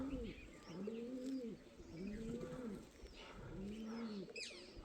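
Pigeons at Bhangarh fort coo in a steady repeating rhythm, three or four soft rolling calls close by, with faint chirps and a low ambient hum behind them.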